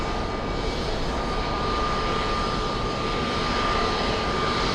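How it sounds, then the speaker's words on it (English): A small Avianca airliner taxis below at JFK airport, its engines producing a loud, unbroken broadband roar with a steady whine running through it, alone without voices. "Let's go over to the little Avianca taxiing right below us."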